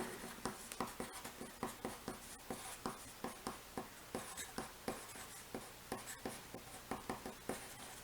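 Set notation written by hand during a pre-algebra lesson on set-builder notation: a quick, regular series of close, scratchy pen or marker strokes, each tap and scrape repeating steadily with no voice over it.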